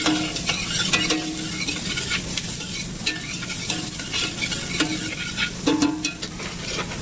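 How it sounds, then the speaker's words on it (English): Ingredients for a chorizo-stuffed pork loin sautéing in oil in a pan, a loud, close sizzle broken by regular scraping stir strokes and occasional utensil clinks. "We're going to give this a quick saute."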